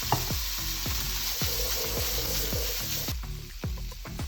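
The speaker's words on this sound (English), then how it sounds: "once your skillet is really nice and hot, at that stage we will add our cholas and let them dry out a little bit" Chickpeas (chole) fry in a very hot skillet with a loud, steady sizzle, while regular scraping strokes of a stirring utensil repeat every half second or so.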